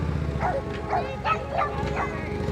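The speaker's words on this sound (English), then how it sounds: "Attack dogs." Several dogs bark in a quick rhythmic series outdoors in a home garden at sunset, nearby and fairly loud, with faint voices underneath.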